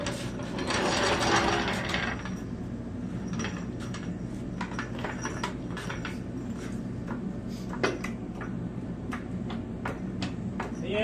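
A jack lifts a Wheel Horse lawn mower for front tire work, with a run of metallic ratcheting clicks and clanks and a scraping burst at the start, while someone talks throughout.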